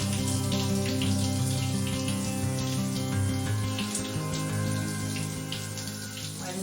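Water runs steadily from a tap while someone washes their hair, a continuous close splashing hiss with a low tonal hum underneath and no talking.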